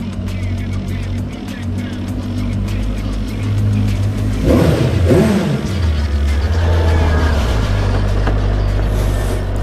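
A Benda LFC 700 motorcycle engine idles with a steady low rumble, then revs up briefly in a loud surge before settling back to a constant idle, close by.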